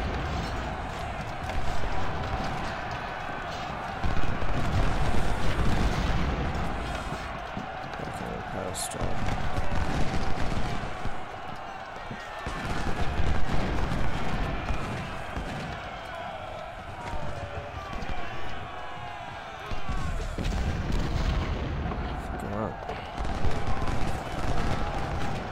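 Dense, continuous rumble of massed musket volleys and artillery on a Civil War battlefield in a strategy game, steady and loud across the whole stretch with a voice talking over it at times.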